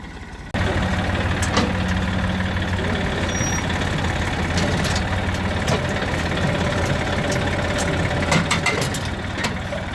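A heavy tractor engine starts and runs loud and steady, straining to pull out a banyan tree stump, rumbling close by with a constant low drone for several seconds.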